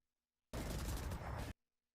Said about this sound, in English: Tens is trying to snipe the player that is planting through a short.